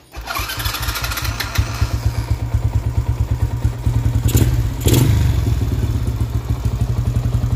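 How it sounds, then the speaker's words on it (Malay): A motorcycle engine starts and runs loudly up close, its rapid exhaust pulses thumping in an even rhythm with a few revs. "So inilah dia bunyi motor yang tak laju sangat."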